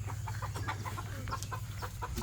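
Chickens clucking in short, scattered bursts over a steady low background hum, fairly close and moderately loud.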